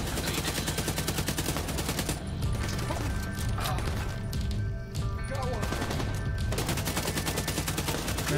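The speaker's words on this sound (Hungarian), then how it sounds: "Valami hátulról lövöldjön." Dense, continuous gunfire from a co-op firefight in The Division 2, with rapid bursts and mechanical clatter layered under occasional voices, steady and loud throughout.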